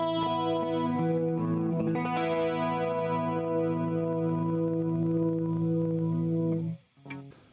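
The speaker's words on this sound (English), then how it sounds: "Now moving on to the chorus effect. This is a nice effect which can soften up your guitar sound." An electric guitar strums sustained chords with a shimmering chorus effect, ringing steadily before cutting off near the end.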